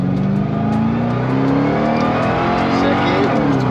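A supercharged Ford Crown Victoria pulls hard in first gear, its loud engine note climbing steadily for several seconds close to the listener, with voices talking over it.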